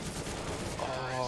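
Rapid bursts of gunfire in a Counter-Strike match on Mirage between Fnatic and LDLC, including shotgun blasts, dense and continuous with some voice underneath.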